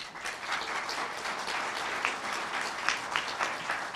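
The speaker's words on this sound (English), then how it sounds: "we should all give it a round of applause" Audience at a 2008 Tampa Bay candidate forum breaks into sustained applause, a dense steady wash of many hands clapping throughout, fairly close and loud with no speech over it.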